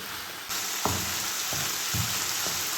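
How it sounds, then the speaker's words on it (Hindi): Vegetables sauté in a hot pan for a Chinese dish, giving a continuous close sizzle with occasional soft thumps and scrapes from stirring. "इसमें वेजेस को ओवर कुक नहीं करते, जस्ट सौते करते हैं।"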